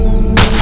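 A single loud gunshot cracks out during a movie chase, a sharp broadband burst that lands abruptly after a steady low hum of background score.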